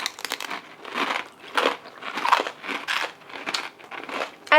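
Close, repeated crunching of Stacy's pita chips being chewed, brittle bursts coming in a steady chewing rhythm of about ten bites, loud and alone with no talking.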